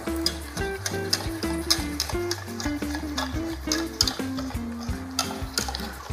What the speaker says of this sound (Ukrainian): З'єднуємо збиті яйця з шоколадом та перемішуємо до рідної маси